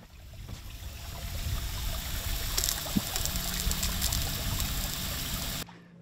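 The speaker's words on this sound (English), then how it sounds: "You put a hose in there and it'll flush all four engines at the same time." Hose water flushes through four outboard engines on a fishing boat, a steady rushing trickle and gurgle that runs continuously at close range before cutting off abruptly near the end.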